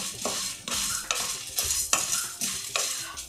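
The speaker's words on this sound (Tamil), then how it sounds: "படப்படப்படன்னு வெடிக்கிறது ஜீரகம்லாம்" Cumin seeds and other whole spices dry-roast in a pan for sambar, stirred in regular sweeping strokes about twice a second, with crackling and scraping bursts, close and fairly loud, no talk.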